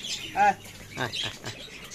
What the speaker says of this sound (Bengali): চন্দনা টিয়া পাখি অরিজিনাল চন্দনা